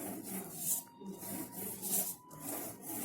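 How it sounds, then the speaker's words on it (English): Paper on a handmade shaker card with a see-through box is burnished by hand, giving soft rhythmic rubbing strokes in three or four close, fairly quiet passes with brief pauses, and no speech. "if you want to burnish this,"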